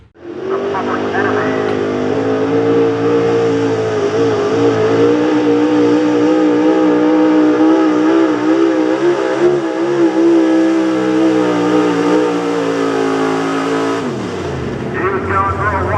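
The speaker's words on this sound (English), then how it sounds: "We got the big block HO class taking place right now." Big block HO class pulling truck engine at a high-horsepower truck pulling event, roaring loudly and steadily for a long sustained pull before cutting off near the end, with a commentator talking over it.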